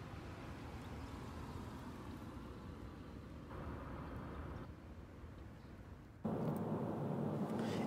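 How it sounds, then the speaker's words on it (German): Cabin of a Ford Tourneo Connect 1.0 EcoBoost on the move, a faint steady low engine and road rumble that shifts slightly and grows a little louder near the end. "Ich bin jetzt mittlerweile unterwegs hier im Ford Tourneo Connect."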